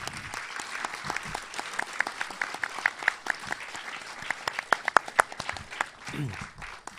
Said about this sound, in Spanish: un aplauso pues para nuestros invitados